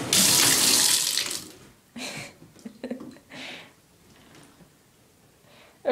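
Water gushes loudly from a tap into a bathtub for a second or so, then stops, leaving quieter splashes, drips and soft movement in the tub.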